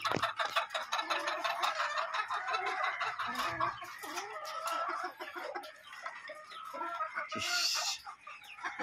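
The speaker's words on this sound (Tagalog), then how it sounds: "Ito yung mga inahin niya na ginamit sa mga Raptor." A flock of gamefowl breeding hens clucks continuously up close in a steady chorus, with one sharper call rising near the end.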